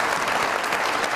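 Dense, steady applause from a studio audience at a Pakistani comedy show, loud and even from start to finish with no voices above it.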